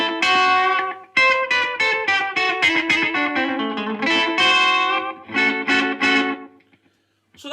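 An electric guitar played through a SIB Mr Echo delay pedal rings out in quick rockabilly-style phrases. Each note trails off in repeating echoes, then the sound fades to near silence at the end.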